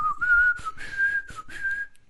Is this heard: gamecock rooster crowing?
no